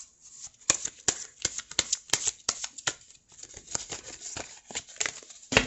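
Tarot cards being shuffled up close, a quick run of crisp riffling snaps and papery slaps in uneven bursts, with no talking over them.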